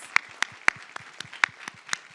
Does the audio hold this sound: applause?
yes